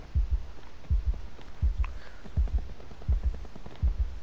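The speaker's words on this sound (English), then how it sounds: "I hear my heart beating because I'm going." A heartbeat effect in a first-person video game plays a steady, loud lub-dub pulse repeating about every three-quarters of a second, deep and thumping with a faint hum behind it and no talking.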